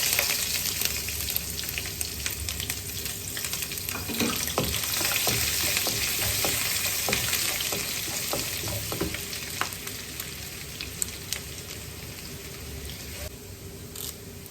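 Grated coconut, ginger and garlic frying in an oily pan for chicken masala, a steady close sizzle with occasional stirring scrapes and no talking.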